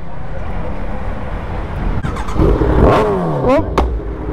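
A Kawasaki Z900 superbike engine revs up close and loud, with a rising whine over an idling rumble, followed by a couple of sharp throttle blips while people talk nearby.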